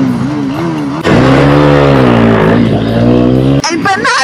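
Motorcycle engine revving hard on arrival at a motorcycle rally, one loud sustained rev that rises and wavers in pitch and then cuts off abruptly, with people talking nearby.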